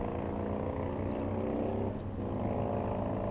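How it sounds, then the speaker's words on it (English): A jet ski passes on a lake, heard from a kayak as a steady, distant engine drone with a faint, even hum that holds throughout. "the angle that it's coming from sounds like that's a jet ski."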